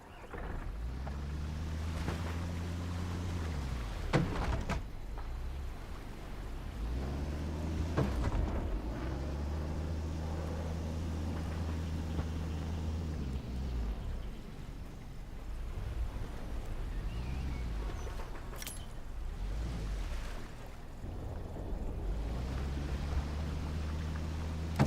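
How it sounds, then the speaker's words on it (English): Boat engine in the video game Hell Let Loose Vietnam, a steady low motor hum that dips and rises as the craft pulls up to a dock, with watery wash and wind noise throughout and no talk. "Pull the boat up to the dock and switch the engine off."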